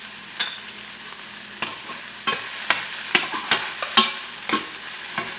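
Vegetables with scallion, also called green onion, sautéing in a pan over low heat while being stirred, giving a steady sizzle broken by regular sharp scrapes and clinks of a utensil roughly every half second.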